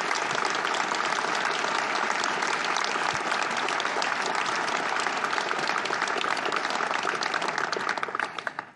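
Dense, sustained applause from a large audience at a French political gathering, steady and loud for several seconds before tapering slightly at the end.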